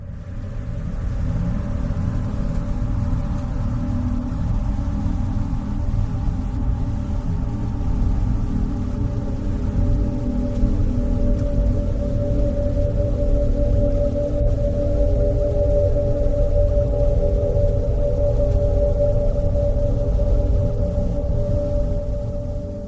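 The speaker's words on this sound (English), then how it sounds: "If gravitational waves could be converted into sound, it would sound something like this." Gravitational waves converted into sound: a steady, deep rumbling drone with a faint rising tone threaded through it, continuous and unbroken throughout.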